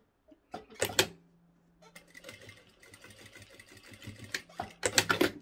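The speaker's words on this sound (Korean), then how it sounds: "이 사절 기능이 있는 재봉틀을 사용하면요, 재봉틀을 할 때 바느질의 소요 시간이 엄청 단축돼요" A sewing machine with an automatic thread-cutting function stitches fabric for a tissue cover in bursts, starting and stopping with rapid mechanical clatter, with louder thumps at the beginning and end and no talking.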